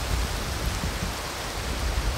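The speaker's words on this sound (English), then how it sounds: "Look at this rain!" Steady rain falls at night among trees, a dense, even hiss of drops with no breaks, moderately loud and unaccompanied by voices.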